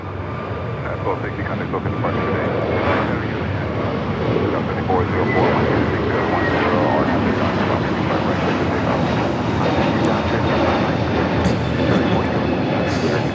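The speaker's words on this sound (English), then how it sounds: "United Airlines 1260 taking off to Denver on the A321neo." A United Airlines Airbus A321neo takes off from Los Angeles LAX, bound for Denver: a steady, loud jet-engine roar runs through the whole stretch. Voices talk over it now and then.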